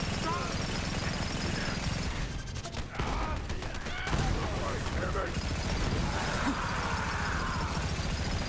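Rapid gunfire in the shooter game Borderlands: dense, continuous bursts of sharp shots and mechanical clatter running throughout, loud and busy, with other game sounds mixed in.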